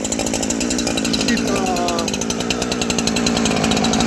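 A Husqvarna 372xp chainsaw revs steadily on the trigger, loud and close, with a sputtery, slightly rough note that holds throughout.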